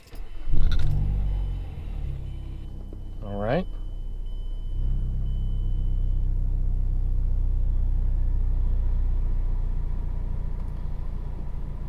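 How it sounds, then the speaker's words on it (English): A 2012 Mazdaspeed 3 with a new COBB rear motor mount cranks and fires up with a sharp starter whine, then settles into a steady, low idle rumble that carries on close by; a voice speaks briefly before the start. "So we're going to go ahead and start the car, see how it feels."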